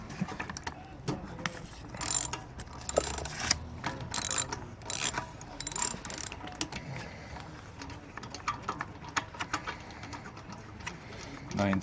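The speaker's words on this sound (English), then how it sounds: "we're going to quickly show you how we're going to take out the spark plug." A ratchet with a socket works at the spark plug on a Honda-engined pressure washer, making rapid clicking pawl bursts in several runs, close and fairly loud, with people talking now and then.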